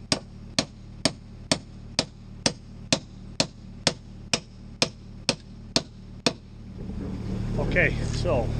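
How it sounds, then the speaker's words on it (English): Repeated heavy hammer blows drive huge nail spikes into a storage bay post, about a dozen sharp, evenly spaced strikes, loud and close, before the hammering stops and a low rumbling noise takes over. "What I attempt to do is drill a couple of holes and nail it in place with these huge nail spikes."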